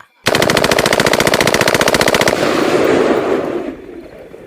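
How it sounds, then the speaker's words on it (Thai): Rapid automatic gunfire bursts loudly for about two seconds, a dense rattling stream of shots, then fades into a lingering rumble and echo. "เสียงปืนแผดกล้องขึ้นทางเบื้องหลัง"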